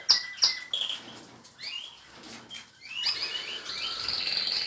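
Caged canaries and goldfinches chirp and tweet in an aviary, bright high-pitched calls in short bursts that become a more continuous twittering toward the end, with no voices.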